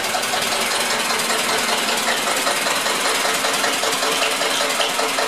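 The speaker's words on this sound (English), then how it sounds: "You can hear the engine bog down." A Metro Listeroid 6/1 diesel generator drones steadily and loudly throughout, chugging and labored as it bogs down under a load of 1500-watt space heaters, with no voices.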